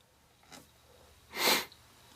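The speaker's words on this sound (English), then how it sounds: "I'm kind of sick, so excuse my sniffling." A faint short sniff followed by a louder, longer sniffle, close by in an otherwise quiet room.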